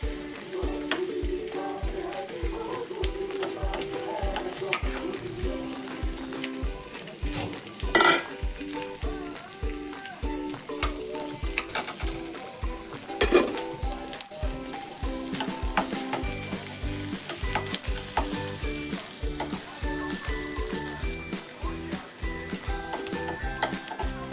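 Onion frying in a pan for a Goan moong gathi dish, a steady close sizzle with repeated rhythmic scraping strokes of a spoon against the pan, occasional louder clatters, no talking.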